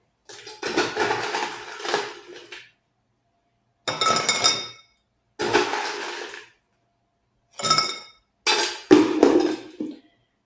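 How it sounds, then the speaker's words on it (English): Ice cubes clink and rattle against a glass as a cocktail is stirred, in five distinct bursts of a second or two separated by silent pauses, close and fairly loud. "This one also you stir and not shake."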